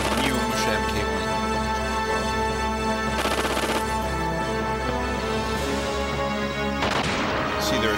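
Gear battle attack in the Xenogears video game, with Kislev military gears firing on the gear Heimdall: dense, loud bursts of gunfire-like blasts layered over continuous game music throughout.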